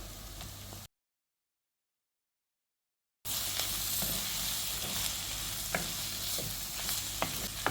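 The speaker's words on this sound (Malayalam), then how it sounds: "മുരിങ്ങയ്ക്കയും അതുപോലെ തന്നെ പടവലങ്ങ ഇട്ട് കൊടുക്കുകയാണ്" Drumstick and snake gourd tumble into onions frying in a pan for a curry, then get stirred; a steady close sizzle with scraping, broken by a stretch of dead silence before the frying resumes, louder and dense.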